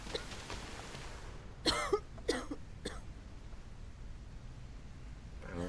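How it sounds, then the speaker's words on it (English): A character in the video game Quarantine Zone: The Last Check coughs three times in quick succession, close and fairly loud against a quiet hiss. "But you do have a cough."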